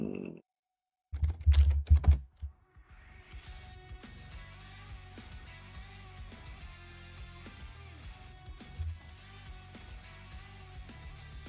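Typing on a computer keyboard, a few loud, close bursts of keystrokes at first, then a long run of soft, rapid clicking under quiet game music.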